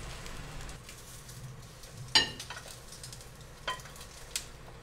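An egg frying in a new frying pan gives a quiet, steady sizzle, with a few sharp clinks and scrapes as it is turned over. No voices are heard.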